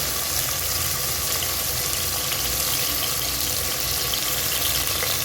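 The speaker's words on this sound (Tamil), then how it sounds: "வெங்காயம் பாருங்கள் நல்லா வதங்கிட்டு இருக்குது" Onions and green chillies sautéing in a pan for an Okanekal-style fish curry, a steady, even sizzle that holds without a break, close and fairly loud, with no voices.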